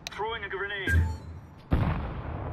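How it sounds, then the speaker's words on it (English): A flashbang grenade in a tactical shooter game goes off with a sudden loud bang and lingering ringing noise, following a short stretch of voiced game audio and a thudding impact. "Deploying flashbang."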